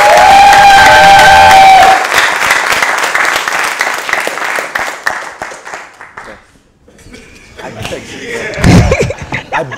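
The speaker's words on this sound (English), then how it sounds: "Ladies and gentlemen, give a round of applause." A studio audience at a televised quiz contest in Ghana bursts into loud applause and cheering, with dense clapping that fades after a few seconds. Scattered claps and a few raised voices follow.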